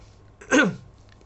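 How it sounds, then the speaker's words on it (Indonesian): A single short, throaty cough from someone speaking close to the microphone during a tarot reading, loud and isolated against a quiet room. "maaf aku agak sedikit batuk"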